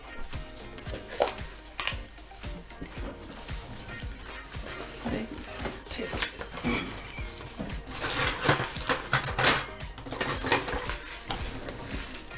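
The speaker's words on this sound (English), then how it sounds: "Is it okay if I stir a little bit?" A spoon clinks and scrapes around a bowl of Jewish apple cake batter, with irregular taps and rattles that grow busier toward the end.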